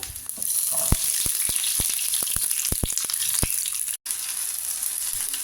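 Garlic and shallots frying in hot coconut oil for chutney, a steady bright sizzle with repeated sharp clicks of a spoon stirring against the pan.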